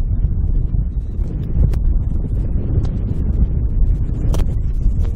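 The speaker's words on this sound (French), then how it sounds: "Le vent, il souffle en ce moment." Wind blows across desert sand dunes with a steady, loud rumbling buffet against the microphone and a few faint gusty flutters, and no voices.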